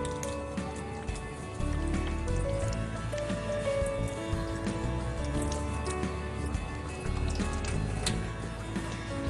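Hands being washed under running water in a kitchen: a continuous close trickle and splash of flowing water with small drips and squishes, over a steady tonal background hum.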